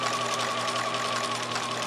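A sewing machine stitches a 5/8 inch seam in fabric, a steady, fast, humming whir with a rapid needle rhythm, close and moderately quiet, with no talking.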